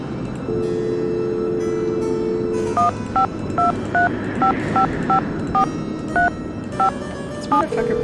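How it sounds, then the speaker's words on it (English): Telephone dialing tones in a Nancy Drew video game: a dial tone hums, then about a dozen short clear keypad beeps follow in an uneven rhythm, loud and close. "So let's go make some phone calls."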